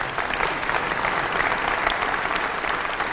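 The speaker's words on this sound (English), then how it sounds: "You clap." A crowd applauds during the Macon-Bibb State of the Community address, sustained even clapping filling the room at steady loudness with no pause.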